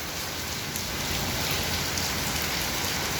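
A strong downpour drums continuously on nearby surfaces, a thick, even roar of falling rain with no pauses and no talking.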